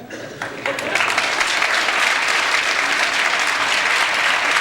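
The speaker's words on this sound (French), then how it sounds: "Si tu es de bonne humeur, tape des mains." A live variety-comedy show audience claps together in steady, sustained applause that swells after a brief softer start and stays loud and dense throughout.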